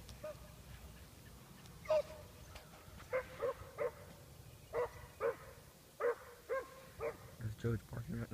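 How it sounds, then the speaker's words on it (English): Deep dog barking outdoors during a search for a rabbit, a series of short, separate barks at moderate distance, some in quick pairs, heard beneath and between people talking. "Deep barking out."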